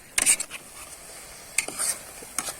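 Masala paste with turmeric frying in a pan for vegetable kurma, a spoon scraping through it in a few quiet, separate strokes over a faint background hiss.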